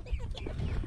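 A flock of thirteen newly bought chickens clucks in one short, faint burst, low soft calls close by with background noise.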